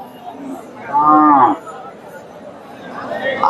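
A local desi dairy cow at a rural cattle market in Hasokhali, Bogura, gives one loud, drawn-out moo lasting about half a second, over a low background murmur of market chatter.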